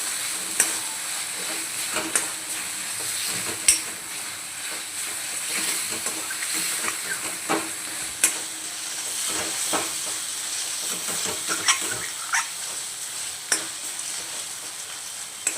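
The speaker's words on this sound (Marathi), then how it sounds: "छान फोडणीमध्ये असे परतून घ्यायचे आपण" Soya chunks stir-fried in a hot spiced oil tempering with masala sizzle and hiss steadily, punctuated by repeated scraping and clinking strokes of the spoon against the pan, close and loud.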